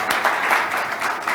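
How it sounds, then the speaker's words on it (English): A workshop audience at a branding masterclass claps briefly, a short burst of close hand claps. "Yes, clap."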